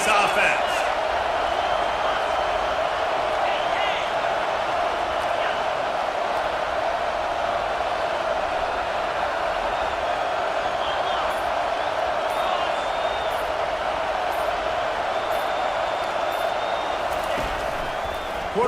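A stadium crowd in a college football video game roars in a sustained, dense wash of cheering and noise on a fourth down, loud and constant throughout, with a commentator's voice talking over it.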